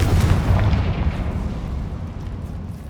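Confringo fire spell from Hogwarts Legacy bursting in a loud explosive boom at the start, followed by a rumbling, fading roar over a few seconds.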